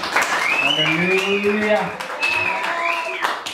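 Congregation at a Sunday church service claps as an offering of applause to Jesus, a busy crackle of hands beneath a voice calling out in sustained, sung exclamation.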